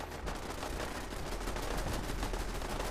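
Automated turrets firing in Fallout 4 during a settlement defense in the Far Harbor expansion, a dense unbroken stream of rapid gunfire holding steady and loud for the whole stretch with no voices over it.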